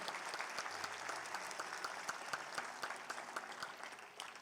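Congregation applauding the Lord during a Sunday church service, a dense wash of many hands clapping steadily with sharper individual claps poking through, sustained throughout at moderate level with no one speaking.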